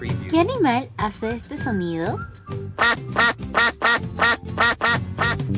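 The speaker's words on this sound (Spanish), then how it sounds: "Muy bien, es nuestro amigo el pato." A duck quacks in a rapid series of loud, nasal, evenly spaced calls, coming right after a voice asks a question in Spanish.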